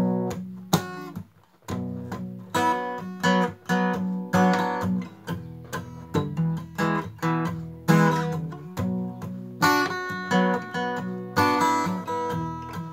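Acoustic guitar playing a song with an easier barre shape that keeps the bass notes audible, steady rhythmic strums and picked bass runs, close and clear, no talking.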